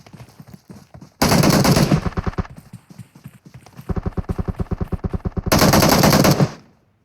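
Automatic gunfire in PUBG sprays a passing vehicle: two loud, dense bursts, with a rapid run of evenly spaced single shots between them, all close and with no talk.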